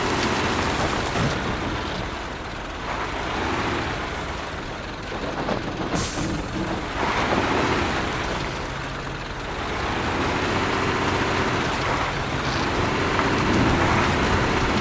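K700 tractor truck engine in the video game MudRunner, a deep continuous rumble that swells and eases, with rain-like hiss and a hissing burst partway through.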